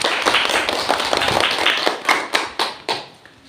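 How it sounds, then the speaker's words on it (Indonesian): Classroom applause for student group 2, a burst of quick hand claps from a small group that thins out into a few separate, louder claps at the end. "tepuk tangan dulu buat temannya untuk kelompok 2"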